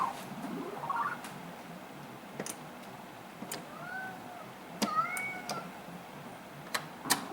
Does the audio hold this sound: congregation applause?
no